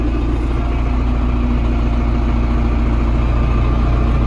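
A running ENEY TB904 generator engine under load gives a steady, loud, close mechanical drone with an even hum throughout, and no voices are present.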